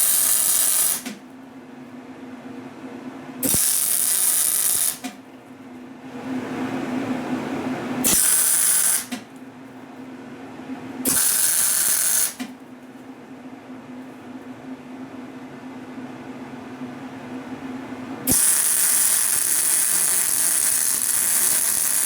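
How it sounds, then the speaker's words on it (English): Metal face milled down on a milling machine for a steady rest project, with a steady motor hum broken by several bursts of loud, hissing cutting noise that start and stop abruptly. "I will now mill this down"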